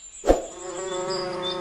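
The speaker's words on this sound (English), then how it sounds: "The bees buzzed from flower to flower." A bee buzzes in a garden: a soft click, then a steady, fairly faint droning hum that holds close by, with no talk.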